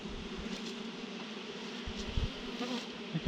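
Honey bees buzz around a hive cut from a log, a continuous low droning hum with a few louder passes of bees close by, no voices.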